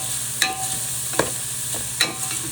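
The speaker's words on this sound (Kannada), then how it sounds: "ಇದನ್ನು ಹುರಿಬೇಕು." Onion, mustard seeds, urad dal and curry leaves fry in hot oil with a steady close sizzle, broken by three sharp scrapes of a spoon stirring the pan.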